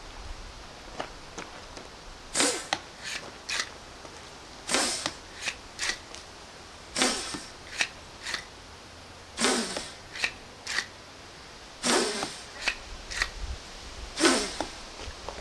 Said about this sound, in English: The proof of concept pump action blowgun prototype.